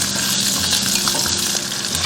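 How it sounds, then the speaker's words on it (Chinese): Chopped aromatics sizzle and crackle steadily in hot cooking oil as they are stir-fried in a wok, a dense, close frying hiss with no voices. "先下入料头炒香"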